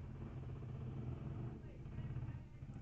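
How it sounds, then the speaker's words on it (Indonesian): A loud motorcycle engine rumbles steadily outside, a continuous low drone that holds through the whole stretch without breaks. "suara motor ribut sekali"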